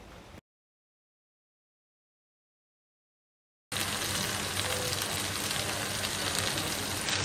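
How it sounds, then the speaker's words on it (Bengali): Hilsa fish frying in a pan with a steady, close hiss and crackle after a short burst of sound and a few seconds of silence. "এখন আমি ইলিশ মাছগুলো প্রথমে ভালো মতো ভেজে নিব"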